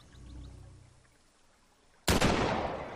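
Muffled low game ambience gives way to a sudden loud burst of rifle gunfire in the video game The Walking Dead: Survival Instinct, with the blast ringing on to the end.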